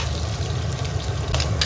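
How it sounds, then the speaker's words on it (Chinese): Pork sizzling in its rendered fat in a pan, giving a soft, continuous crackle with a few sharper pops near the end. The sound is close and quiet, with no voices. "所以我打算给它稍微多煎一会儿"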